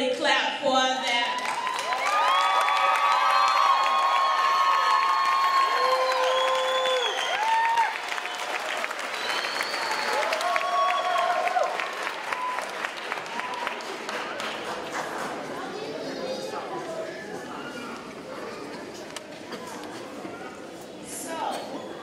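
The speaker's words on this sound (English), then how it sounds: "Okay, now's the time you can really clap for that." Evening school ceremony crowd for 8th grade special recognitions breaks into loud, sustained clapping mixed with cheers and whoops, swelling at first and then thinning gradually over the closing seconds.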